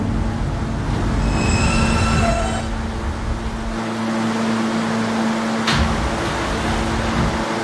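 An R160A subway train in a Roblox game runs steadily with a continuous rumble of wheels on rail, faint high squeals early on and a sustained hum. It is loud and close, with no voices.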